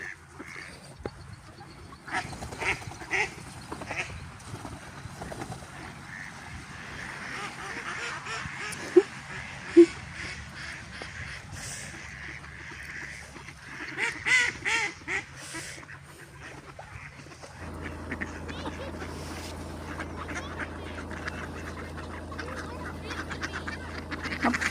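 Ducks on a canal being fed bread, giving repeated nasal quacks and honking calls near and far in scattered bursts, with water and outdoor background noise beneath.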